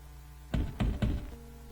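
Three firm knocks on the gift shop door in the game Return to Zork, evenly spaced and close, over a quiet background hum.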